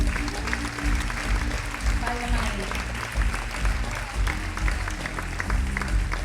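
Applause from a concert audience at the Teatro Colón during the Xullo Pop! 2023 show, dense and steady across the whole stretch with a few faint words spoken over it.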